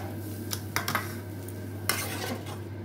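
Beto shak greens being stir-fried dry in a pan, with a few scraping stirs of a spatula and faint sizzling over a steady low hum, no voices.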